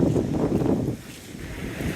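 Steady wind buffets the microphone along a busy seafront, rumbling loudly for the first second, then easing to a lower, gustier roar.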